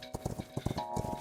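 Horse hooves clip-clop in the video game Rust, a quick, rhythmic series of close, hollow knocks.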